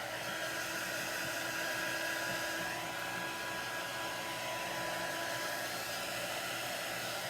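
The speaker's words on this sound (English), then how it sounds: "I'm going to hit them with the dryer for just a minute" Continuous whooshing whine of a hair dryer blowing, steady and close, with a faint tonal hum and no talking.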